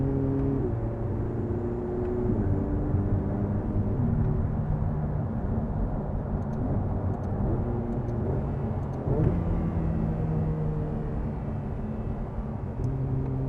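A Ferrari 488 Pista engine drones steadily from inside the cabin, its pitch stepping up sharply several times as it shifts down through the gears.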